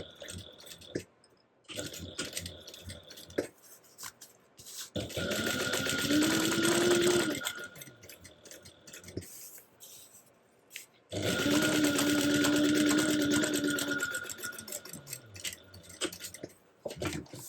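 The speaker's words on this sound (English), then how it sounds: "you're going to be top stitching through this pocket panel piece" A sewing machine runs in two long, steady bursts, top stitching through a pocket panel piece, close and loud, with clicks and fabric handling between runs and a voice speaking briefly.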